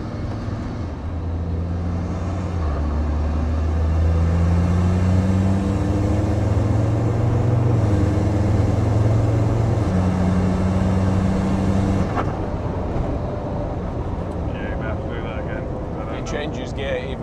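A Land Rover Td5 diesel with a ZF8HP automatic gearbox conversion drives over a rough road, its engine droning loud and close with rising and falling tones as it changes gear, over steady road rumble while people talk now and then.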